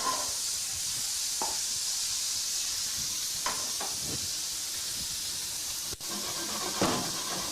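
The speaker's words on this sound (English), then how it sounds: "when you saute this up, we're just going to get a little bit of color on it" Venison steaks sautéing in a pan give off a steady, fairly loud hissing sizzle with occasional light scrapes and clicks, no one speaking.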